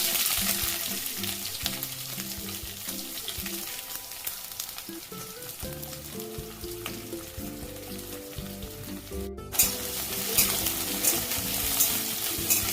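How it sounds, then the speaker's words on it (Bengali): Onions hiss and sizzle steadily in hot oil in a pan for a Bengali jackfruit and shrimp curry, with occasional stirring scrapes, close and continuous throughout. "এর মধ্যেই আমি পেঁয়াজ দিয়ে দেবো।"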